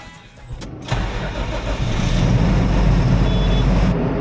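Tractor engine cranking and catching, a short starter whirr that settles into a loud, steady idle running close by, with no one speaking.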